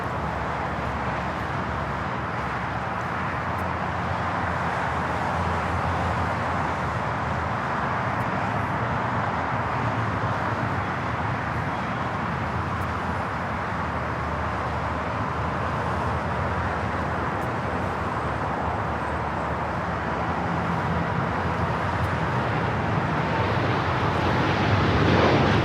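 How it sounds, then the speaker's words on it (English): A Boeing 787-9 Dreamliner rolling down runway 25 Right at LAX, a broad, steady jet roar heard from a distance that swells slightly toward the end, with no talk. "the Dreamliner rolling down to 25 right"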